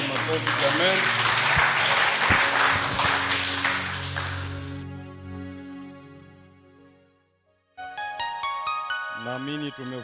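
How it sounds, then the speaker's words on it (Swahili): A church congregation at a Sunday service claps loudly for the first half, with the applause fading out into near silence before a sustained electronic keyboard chord enters. "Mwenyezi Mungu sadaka ya makofi"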